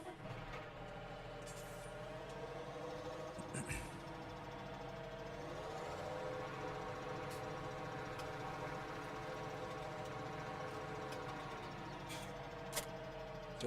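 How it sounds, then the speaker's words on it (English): Steady low drone of a 200-horsepower 7 Series tractor engine idling in the Farming Simulator 17 game, constant and moderately loud with faint clicks on top, no talk. "use a little bit smaller tractor. This is the 7 Series."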